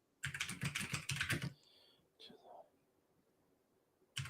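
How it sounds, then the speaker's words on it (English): Rapid typing on a computer keyboard, a dense burst of clattering key presses close to the microphone, then a pause, a few scattered clicks, and one final keystroke. "I'm typing"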